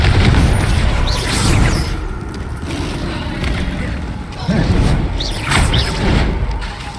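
Confringo blasting spell explosions in the Hogwarts Legacy video game, several booming bursts amid combat noise with heavy rumbling throughout.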